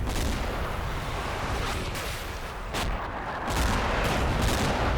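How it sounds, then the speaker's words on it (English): A light four-tube artillery barrage in the World War II strategy game Combat Mission, rendered as a dense, continuous rumble of overlapping blasts and booms, heavy and loud throughout with a few sharper impacts. "A 4-tube light barrage falls down the gatehouse right."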